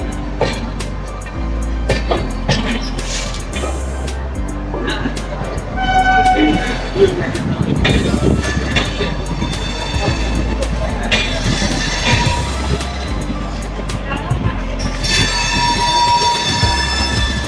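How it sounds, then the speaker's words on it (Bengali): A superfast Howrah–Malda Town train pulls into Bardhaman Junction. Loud rumbling carriages and rattling wheels fill the whole stretch, with horn-like tones and squealing wheels as it slows, and voices in the background. "আমাদের ট্রেন ঢুকছে বর্ধমান জংশন।"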